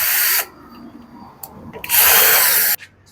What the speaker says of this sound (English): We have to remove the screw first.